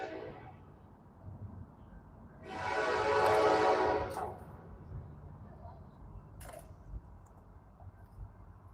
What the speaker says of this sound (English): Here comes the train, dude. It's about to get loud as a motherfucker.